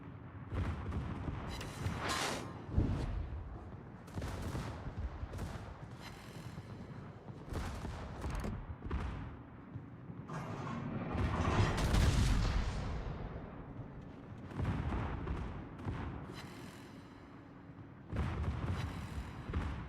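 Naval gunfire in World of Warships, several heavy salvos booming across a dense, loud battle soundscape, with repeated blasts and rumbling impacts spread over the stretch and no talk.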